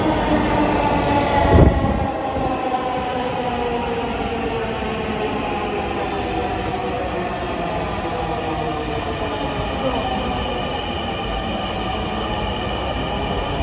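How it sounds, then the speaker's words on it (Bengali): A crowded Dhaka metro train rolls along with a steady, loud, enclosed rumble and rising and falling motor whine, a brief thump early on, and no clear voices above the noise. "আমার মেট্রো চলে আসায় আমি আমার মেট্রোতে উঠে পড়ি"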